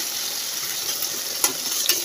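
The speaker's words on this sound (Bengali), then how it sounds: "এবার আলুগুলো দিয়ে দিলাম। আলুগুলো দিয়ে একটু ভাজা করবো" Potatoes fry in oil with black cumin, giving a continuous bright hissing sizzle with a couple of quick stirring scrapes near the end, close and alone.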